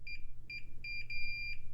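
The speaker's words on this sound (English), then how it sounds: "Just swipe across the top of the ribbon cable here until you hear a beep." A continuity tester swiped across the pins of a ribbon cable gives a series of short high electronic beeps, some brief and some held longer, in an uneven rhythm over a low steady hum.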